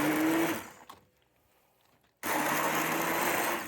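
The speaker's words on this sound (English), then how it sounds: "I have a stick blender and put everything in here" A stick blender purées hot roasted tomato salsa with a loud, steady motor whir. The motor cuts out for more than a second, leaving near silence, then starts again at full strength.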